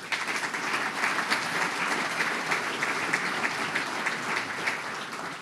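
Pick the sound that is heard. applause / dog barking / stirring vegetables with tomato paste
applause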